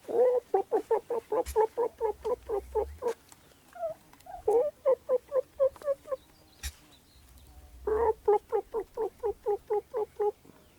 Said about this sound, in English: Hello, turkeys.